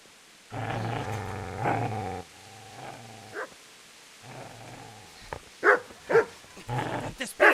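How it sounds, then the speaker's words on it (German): A dog growls in low, rumbling stretches that rise into several sharp barks toward the end, close and fairly loud, with short pauses between bursts. "Köter!"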